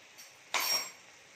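Coarsely ground whole spices hit a hot pan for kadai paneer, letting out one sudden, loud sizzling burst that fades over about half a second, with quiet room background before and after.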